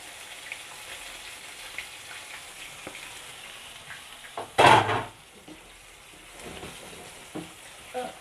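Seasoned fish hits hot oil in a pan with a sudden loud sizzle burst partway through, which quickly settles into a softer, steady frying crackle.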